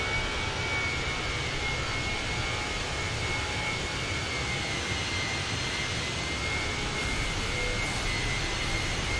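Airliner jet engines roaring at takeoff power in Microsoft Flight Simulator, departing Wroclaw, a loud continuous broadband rumble with a steady high whine, unbroken throughout.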